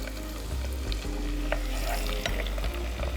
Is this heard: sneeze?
no